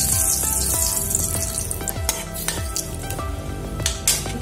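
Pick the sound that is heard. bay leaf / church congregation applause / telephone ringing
bay leaf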